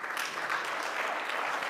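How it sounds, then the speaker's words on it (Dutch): Steady applause from the audience at a health masterclass, a brief continuous wash of many hands clapping at moderate distance, without a clear start or end. "Nogmaals applaus"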